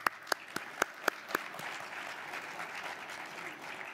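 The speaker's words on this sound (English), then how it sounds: "Let's give them a warm applause and a welcome." Audience applause welcoming panelists at a high-level panel on Africa at Davos 2020. It opens with a few sharp, loud claps, then settles into a softer, steady wash of clapping from a large room.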